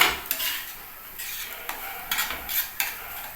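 Semolina frying in ghee with a pinch of salt and sugar: a spoon scrapes and clinks against the pan in short, irregular strokes over a faint sizzle.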